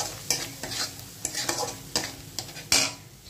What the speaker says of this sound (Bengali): দিয়ে ভালো করে মশলাটা কষিয়ে নিতে হবে